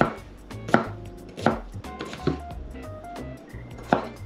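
Rough chopping of ingredients for a simple Bosnian dish: a knife strikes a cutting board in a handful of loud, separate thuds at uneven intervals, close by, over a faint kitchen background with no talking.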